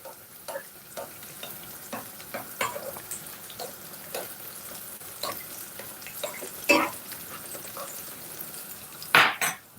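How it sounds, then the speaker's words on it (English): Breaded chicken shallow-frying in oil in a pan gives a soft, continuous crackle beneath scattered utensil taps and metallic clinks from turning and handling, with a couple of louder pan knocks near the end. "we're just gonna put some oil over this just to help it. But when I turn it, because this should be acting as a deep fry"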